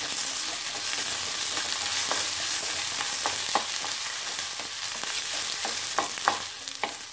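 Chopped tomato sautés in a hot pan with a continuous loud sizzle, and sharp utensil scrapes and taps come through at irregular intervals.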